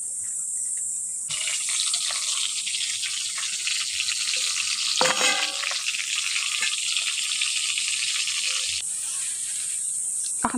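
Pieces of pointed gourd (potol) fry in hot oil, a bright, hissing sizzle that swells after a quieter start and runs steadily, with a brief rattling stir midway.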